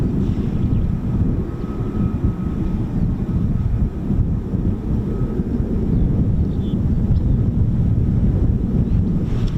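An F-35B stealth fighter jet flies past, heard as a continuous low, heavy roar that holds steady throughout, with strong wind buffeting the microphone outdoors.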